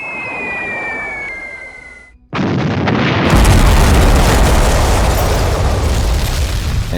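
A board game sound effect for a B-17 salvoing its bomb load: a whistling tone of the falling bombs, a brief gap, then a loud explosion that swells into a sustained roaring blast.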